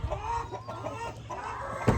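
A farmyard rooster clucks in short, close bursts, with other fowl noises mixed in and a louder squawk near the end.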